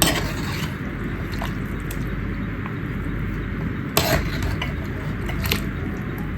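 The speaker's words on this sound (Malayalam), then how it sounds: "ഇനി നമുക്കിതൊന്ന് നന്നായിട്ട് മിക്സ് ചെയ്ത് വെക്കാം" Fish head curry made with red snapper being stirred in a pot, a soft steady scraping and clinking of the utensil against the vessel with occasional sharper knocks.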